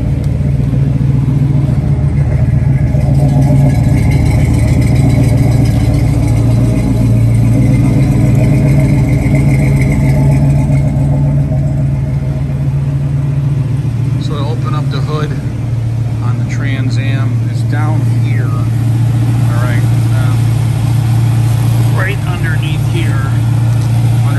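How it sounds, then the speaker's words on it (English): A 1979 Pontiac Trans Am idles through its exhaust with a deep, steady, loud rumble that runs the whole time, with someone talking over it partway through. "Listen to the exhaust."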